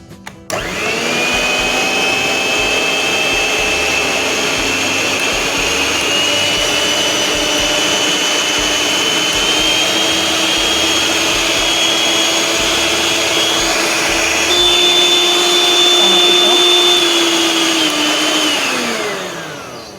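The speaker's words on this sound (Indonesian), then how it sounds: "Kita kocok telur selama lebih kurang 2 menit sampai mengembang." An electric mixer beats four eggs for a tiramisu sponge cake, its loud, steady motor whine running unbroken for about twenty seconds before winding down at the end, with no talking.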